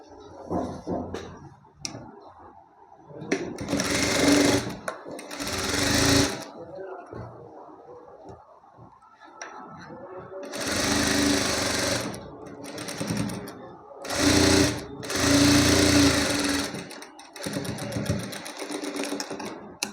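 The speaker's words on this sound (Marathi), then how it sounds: "या पद्धतीने आपल्याला शिलाई मारून घ्यायची आहे" A sewing machine stitching a blouse runs in several loud, close bursts of rapid mechanical whirring, each lasting a few seconds, with quiet pauses and someone talking between and over the runs.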